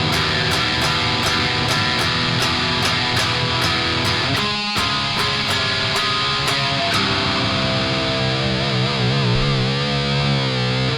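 An electric guitar plays through a heavily fuzzy, distorted amp, ringing chords with sharp picked attacks, then a brief break before sustained notes wobble with vibrato, loud and up front with no talking.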